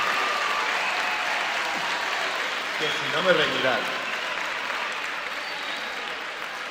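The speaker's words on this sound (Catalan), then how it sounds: "Per favor, fem un fort aplaudiment professional." Applause from a concert audience at the Conservatori Superior Mestre Tàrrega de Castelló before a Peter and the Wolf performance: steady dense clapping throughout, with a voice speaking briefly over it midway.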